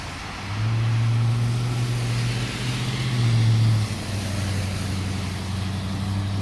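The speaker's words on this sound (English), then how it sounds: "a very busy intersection. Always busy here, always noisy. Lots of trucks." Loud, steady rumble of heavy truck engines from passing traffic close by at the busy Robie and Quinpool intersection, a low drone that swells and then eases slightly.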